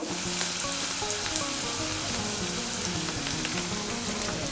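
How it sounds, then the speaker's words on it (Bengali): Potato and eggplant curry sizzles steadily in a pan with turmeric, chili powder and salt, a dense, even frying hiss with faint stirring clicks and no talking. "নুন হলুদের গুঁড়ো লঙ্কার গুঁড়োটাকে মিশিয়ে নেব।"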